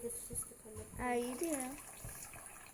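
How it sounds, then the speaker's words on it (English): Water runs into a hamster's water bottle as it is filled, a steady soft hiss under people talking nearby. "We're just going to fill this thing up."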